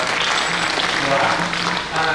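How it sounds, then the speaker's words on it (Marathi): A kirtan audience at a Shri Shanaishwar Jayanti festival claps loudly, with dense, sustained applause filling the whole stretch and faint voices mixed underneath. "तुमच्या करता एकदा जोरदार टाळी वाजवा"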